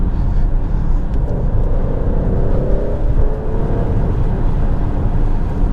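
Alfa Romeo Stelvio Quadrifoglio engine in dynamic mode, a loud continuous rumbling drone from inside the cabin as it downshifts, with a slight rise in revs midway and no talk.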